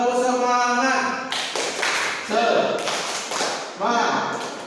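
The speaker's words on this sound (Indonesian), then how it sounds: "Ya, tepuk semangat." A class performs the rhythmic 'tepuk semangat' spirit clap in a school classroom, with sharp claps in quick patterned bursts over several seconds, mixed with children's voices.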